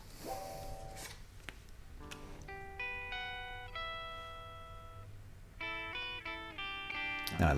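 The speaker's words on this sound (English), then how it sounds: "And the higher guitar sounds like this" An electric guitar plays the higher melodic part of a song, bright ringing notes in short phrases, fairly soft, with faint handling noises between them.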